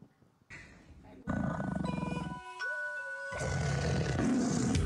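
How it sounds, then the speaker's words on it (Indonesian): Lions and tigers kept as pets in a Dubai home roar repeatedly, deep rumbling calls building in strength with overlapping bursts, loud and close, with a steady tone underneath and no talk. "Salah satu simbol kekayaan di Dubai, yaitu memelihara singa dan harimau di dalam rumah."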